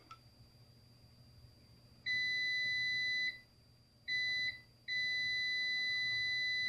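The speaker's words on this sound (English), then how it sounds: "it's going to an audible alert to tell you the continuity" A Kaiweets KM601s multimeter sounds its continuity alert as the test leads touch. A clear, steady high beep plays in three stretches: a long one, then a short one, then a continuous tone, with no talking.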